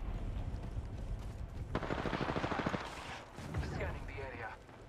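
A rapid burst of automatic gunfire from another squad in an Apex Legends Duos match rattles through the middle of the clip, set against steady game noise and some talk.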